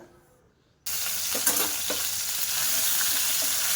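After a brief quiet moment, a loud sizzle bursts out as ginger paste and green chili hit hot oil, then keeps frying steadily with faint stirring clinks.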